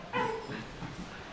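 Dog outdoors at a farm house gives one short, sharp bark or yip, fairly close, followed by a brief whimpering tail over a steady background hum.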